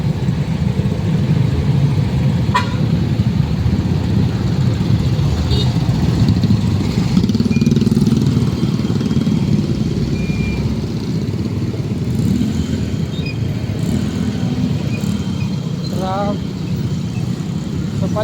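Steady road traffic in Tanza, with cars and motorcycles idling and moving past, a continuous close engine rumble filling the whole scene, while someone talks over it.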